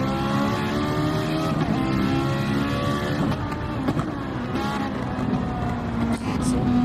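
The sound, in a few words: Audi R8 race car in DTM race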